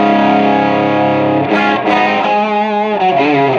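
An electric guitar played through an MXR Timmy overdrive pedal rings out a sustained, loud distorted chord that then shifts into a rougher, wavering strum, with no voices.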